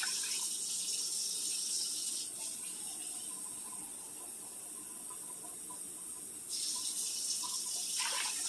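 Water poured from a can into a crock pot, a steady broadband splashing stream running almost without break, close and moderately loud, with a slight drop in brightness midway before the pour picks up again.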